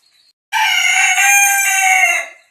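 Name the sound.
rooster crowing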